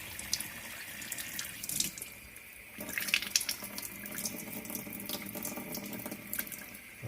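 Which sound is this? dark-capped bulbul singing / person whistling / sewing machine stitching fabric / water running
water running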